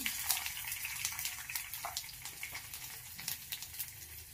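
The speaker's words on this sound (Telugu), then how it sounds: "అన్నీ వేసుకొని కొద్దిసేపు ఫ్రై చేసుకోవాలి" Cumin and chopped onions frying in a pan for a bottle gourd curry give a soft, faint crackle of irregular spattering pops over a quiet background, with no talking.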